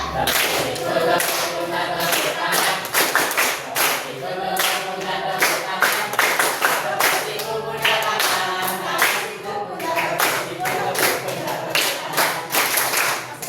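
Students in an Indonesian classroom clap together in a dense, steady burst of rapid hand claps that runs the whole time, loud and close, with a teacher's voice mixed in.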